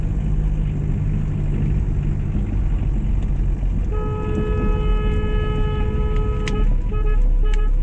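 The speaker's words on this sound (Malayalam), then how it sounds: "ഓണ് കണ്ടിന്യൂസ് അടിക്കുന്ന ഒരു ടൈപ്പ് ഓണാണ് വെച്ചിരിക്കുന്നത്" Horn of a 1995 Premier Padmini 138 D Fiat car blaring as one steady continuous tone for a few seconds, loud and close, over a constant rumbling engine and road noise.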